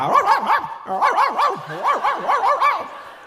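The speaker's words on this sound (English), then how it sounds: "A little scroungy dog ran by." A small scruffy dog barks in quick, high yappy bursts, several in a row with a short pause, close and fairly loud.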